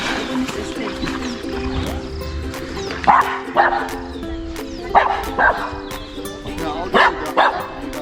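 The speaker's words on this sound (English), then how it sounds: "The dog is enjoying." A dog on a hike through Phaladingwe Nature Reserve near Hartbeespoort gives a run of yips, whimpers and short barks, several close bursts over eight seconds against quiet outdoor background, with some voices present.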